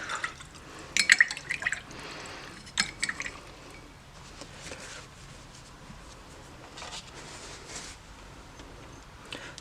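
A paintbrush is swished and rinsed in water between water-mixable oil paints, giving close drips and splashes with light glassy clinks, busiest at first and then settling into fainter trickles.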